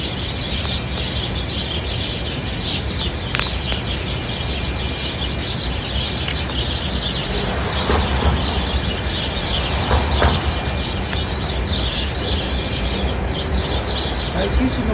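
Flock of birds calling, a dense chorus of chirps and tweets heard outdoors on a walk, continuous and fairly loud against a rumbling background.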